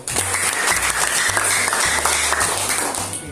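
A classroom of students applauds a group presentation during a lesson, a dense, continuous burst of clapping that stays loud and even for a few seconds with no talk over it.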